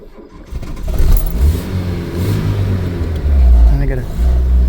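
A 1983 K-car wagon with a five-speed, left sitting thirty years, idling just after starting, its steady low engine rumble rising in two stages as revs climb, close and loud, with someone talking over it.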